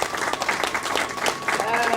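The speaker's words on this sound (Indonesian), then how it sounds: "Berikan tepuk tangannya teman-teman." Applause from an audience welcoming a guest pastor at a live event, steady dense clapping throughout with voices mixed in underneath.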